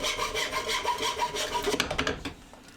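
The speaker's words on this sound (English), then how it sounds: "did some light sanding to each of the legs as they had some wear and tear" Sandpaper is rubbed by hand along wooden snooker cue table legs, giving quick rhythmic rasping strokes up close before fading out.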